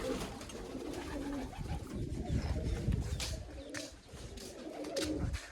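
Pigeons coo in low, rolling phrases close by, with several soft overlapping calls rising and falling over a steady background.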